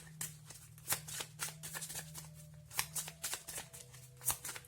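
Tarot cards shuffled by hand and laid down one after another, a close series of crisp riffling slaps and soft card drops over a low steady hum, with no talk.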